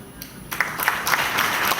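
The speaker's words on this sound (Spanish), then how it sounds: "Un aplauso para la doctora." After a brief lull, a crowd breaks into applause, the clapping swelling quickly into a steady, fairly loud patter.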